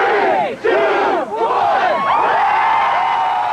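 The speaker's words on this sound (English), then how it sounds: "the boisterous crowd that wanted Dodd dead was 3 times the size of the somber group that mourned his execution" A boisterous crowd shouts and cheers outside Washington State Penitentiary on the night of an execution, a loud, dense roar of many voices rising and falling without pause.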